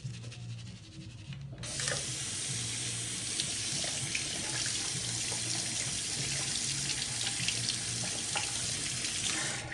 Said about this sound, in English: Let's go ahead and rinse it out.